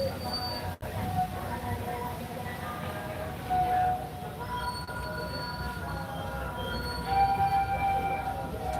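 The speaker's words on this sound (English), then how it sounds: "You can always take that train, the Wildlife Express, over to Rafiti's Planet and watch." Wildlife Express train at Disney's Animal Kingdom rolling along, with steady wheel rumble and recurring high-pitched wheel squeals over a continuous mechanical din, heard close and fairly loud throughout.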